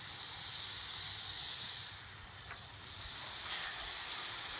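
Carnitas meat and onions sizzling on a Mojoe griddle, a steady close hiss that swells and eases slightly, with no talking.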